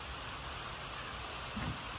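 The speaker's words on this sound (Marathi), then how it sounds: "बाहेर दाखवू ना, पाऊस चालू आहे" Heavy monsoon rain pours down outdoors as a steady, dense hiss that fills the whole stretch evenly, with a faint low rumble briefly rising near the end.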